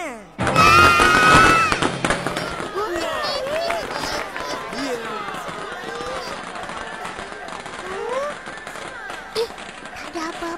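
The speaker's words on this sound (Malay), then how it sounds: "Mercun ni pakai bateri." A burst of crackling battery-powered toy firecrackers pops loudly for about a second and a half, then fades into chatter and voices talking over light background noise.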